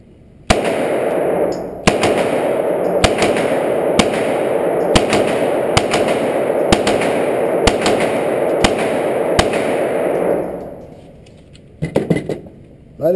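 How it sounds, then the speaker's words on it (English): A Walther PPQ pistol fires about ten loud, sharp shots in a quick, even sequence to test its trigger reset, with a continuous roaring echo between them and a few faint clicks once the firing stops. "I didn't shoot that one that fast."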